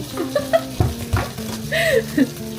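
Onions sautéing in a pan, with a soft sizzle and the scrape and knock of a utensil stirring them, close and fairly loud, in a home kitchen.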